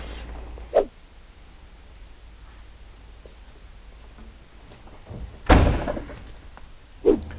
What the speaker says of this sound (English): your door shuts easy again